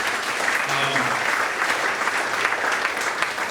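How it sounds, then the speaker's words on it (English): An audience at a foundation launch event claps in a round of applause, a warm, fairly close wash of many hands that stays steady throughout, with faint voices mixed in. "Can we give a round of applause for James?"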